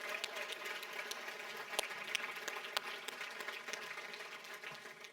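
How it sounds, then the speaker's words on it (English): A gala audience applauding the evening's host at a charity event, a steady, moderately loud round of clapping that fills the room with no voices over it. "Can we get a round of applause for your host tonight?"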